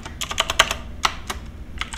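Typing on a computer keyboard with a faulty button, a quick burst of close, crisp key clicks followed by a few scattered, separate taps.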